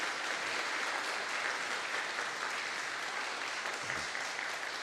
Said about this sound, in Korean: 우리 함께 응원과 감사의 박수를